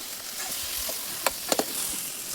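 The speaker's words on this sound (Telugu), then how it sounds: "పసుపు వేగాక చికెన్ వేసుకుందాం. చికెన్ వేసాక కలుపుకొని మూత పెట్టుకుందాం." Chicken sizzles in a pan with onions and turmeric for hotel-style biryani, a soft steady frying hiss under a few close, sharp scrapes of stirring.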